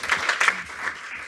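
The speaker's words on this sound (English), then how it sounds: "You can applaud. Yeah, you can applaud." Applause from the audience at a Lincoln city council meeting, a steady patter of many hands clapping at moderate volume through the whole short moment, with no talk over it.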